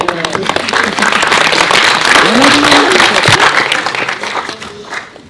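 An audience claps warmly for playwright Magali Mougel at the Armand Gatti theatre library prize event, with steady close clapping that swells and then fades, and a voice briefly audible over it.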